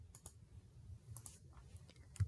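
Computer keyboard keys clicking in a few scattered taps and short bursts, typing an equation into a graphing calculator, soft and close over a faint low hum.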